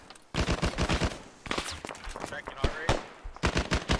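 Rapid gunfire in the military video game ARMA, with repeated sharp shots in quick bursts and short pauses between them, loud and close throughout.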